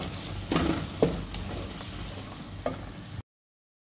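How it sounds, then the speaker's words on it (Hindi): Green chili paste and turmeric frying in a pan, a low crackling sizzle punctuated by a few spatula scrapes and knocks, then silence. "हरी मिर्च का पेस्ट, 1/4 चम्मच हल्दी और इसे अच्छे से भून लेंगे।"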